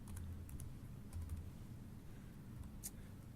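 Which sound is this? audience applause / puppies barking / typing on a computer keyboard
typing on a computer keyboard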